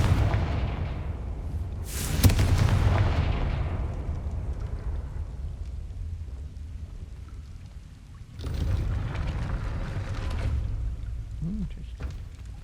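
A Confringo fire spell bursts in Hogwarts Legacy with a sudden loud boom near two seconds, its rumble trailing off slowly, followed later by a second swelling roar amid low game ambience.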